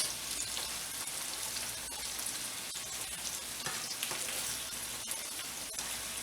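Yellow summer squash sautéing in a skillet, a soft, continuous sizzle and crackle of frying with faint stirring ticks, quiet and steady with no talking.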